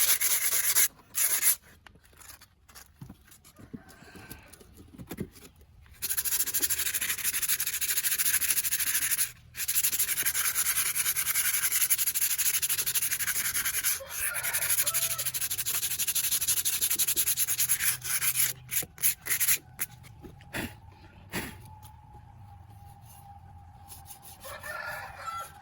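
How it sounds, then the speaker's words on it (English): Fine sandpaper rubs over a hardened sugar-and-cement surface in a long run of steady, dry scratchy strokes with brief pauses, while a rooster crows faintly in the background. "Sand it using fine sandpaper to remove even the remaining hardened cement."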